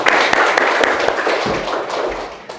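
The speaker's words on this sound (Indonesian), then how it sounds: "beri tepuk tangan buat Afi sudah menjawab dengan tepat" A small group of students in a classroom claps in a dense, brisk burst of hand taps, nearby and fairly loud, thinning out toward the end with no talk over it.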